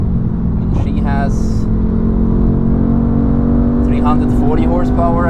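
Mercedes C63 AMG engine droning steadily from inside the car while driving on the Nürburgring, a constant low hum under bursts of nearby talk.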